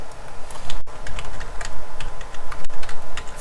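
Steady typing on a computer keyboard while entering an HTML image filename, with quick irregular key clicks in close succession, fairly loud and near, and no talking.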